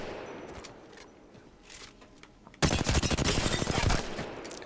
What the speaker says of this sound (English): From mid-range, we're going to shoot this target, controlling our recoil.